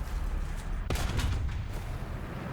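In the video game War Thunder, a heavy tank cannon blast booms out at once, followed by rumbling echoes and a few lighter shots over a constant engine-like drone.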